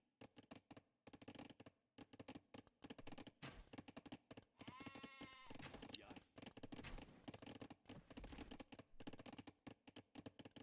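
Sheep bleat in an Age of Empires match, one wavering bleat rising clearly for about a second amid a busy run of clicks, taps and game effects, with a voice talking faintly underneath.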